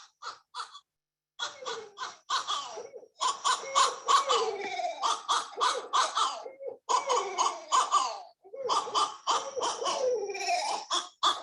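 A pair of barred owls trades wild, cackling monkey calls in a forest, loud harsh hoots and caws tumbling over each other in rapid back-and-forth bursts, with brief pauses between volleys.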